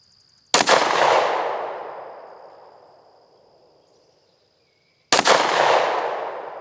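Two loud, sharp pistol shots from a handgun with a green fiber-optic front sight, spaced about four and a half seconds apart, each with a long echoing decay that trails off outdoors.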